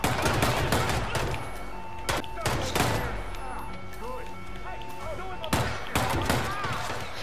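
Bursts of rapid gunfire crackle in quick volleys among sharp single shots and thuds in the video game Hitman 2, with game-like sound effects and a voice talking over them.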